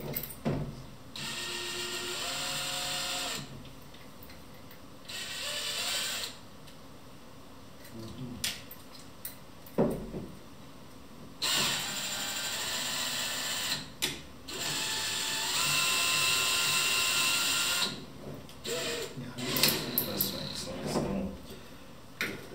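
Electric drill fitted with a wood drill bit whirring in several short bursts of a few seconds each, close up, with someone talking between and over the runs and some mechanical clatter.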